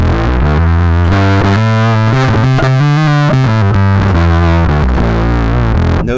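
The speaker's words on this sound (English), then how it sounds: "Let's go to distortion." Distorted bass guitar through a Bergantino Super Pre preamp, loud and steady with gritty, square-edged sustained notes moving through a short riff, no talking.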